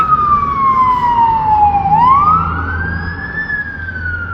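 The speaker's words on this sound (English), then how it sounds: "There's a fire truck going through the town right there." A fire truck siren wails loudly as it passes through Toronto streets, one long falling sweep then a rising tone, close and dominant over low traffic rumble.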